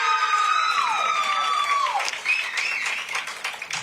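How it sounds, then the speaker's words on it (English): Applause and light cheering rise from spectators at a unified bowling match between York and Alliance, clapping sustained under a tonal whistle-like sweep and some crowd voices. "Well-deserved round of applause."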